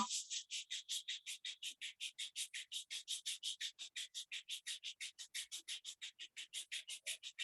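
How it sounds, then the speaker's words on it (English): Palms rub briskly together in a quiet room, making a soft, fast, very even swishing rhythm of about four strokes per second that continues throughout. "Rub your both palms."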